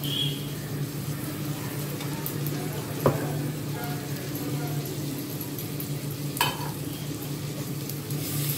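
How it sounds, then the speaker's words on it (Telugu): Ginger garlic paste frying in a pan, a constant close sizzle with a low hum beneath and a couple of faint utensil knocks. "ఈ అల్లం వెల్లుల్లి పేస్ట్ పచ్చి వాసన పోయేంత వరకు ఫ్రై చేసుకుందాం"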